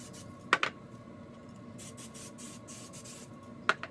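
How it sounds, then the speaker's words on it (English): Hairspray misting onto a held section of hair, two short close hisses of the can a few seconds apart over a steady background hum. "I'm going to hairspray that section next"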